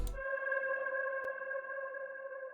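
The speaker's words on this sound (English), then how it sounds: "It's just a one-shot bell. It sounds like this." A one-shot bell sample in FL Studio rings out after a brief attack, its pure tonal partials sustaining evenly and slowly fading, with a faint click midway and no voices.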